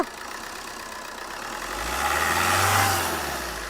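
A used car engine in a dealer's shop is revved once, the low rumble swelling from idle into a rising roar and easing back down, heard close with no talking.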